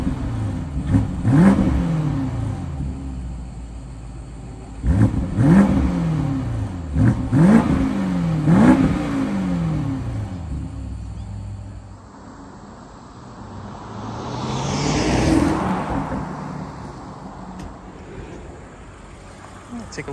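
A 2023 BMW X6 M50i's V8 revs through its exhaust in a series of sharp, loud blips, several in quick succession, then a longer, smoother rise and fall of engine note; a voice speaks faintly at times.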